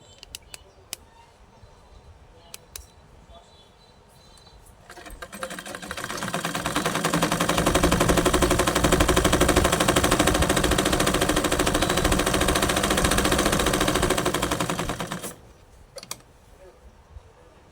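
A sewing machine with its thread tension nut loosened runs in one sustained, even whirring burst of about ten seconds, fairly close, preceded and followed by quiet handling clicks.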